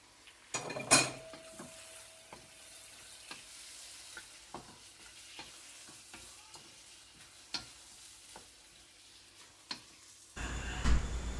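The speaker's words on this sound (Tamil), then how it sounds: "இப்போ பாருங்கள் இறால் நல்லா வதங்கியிருக்கு" Peeled prawns fry in a pan over a low, steady sizzle, with repeated light scrapes and taps of a spatula as they are stirred, then a louder clatter near the end.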